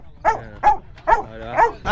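A Labrador dog barks in a quick run of four or five deep, close woofs at an even rhythm, with nobody talking.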